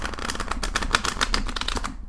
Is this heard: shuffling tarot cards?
yes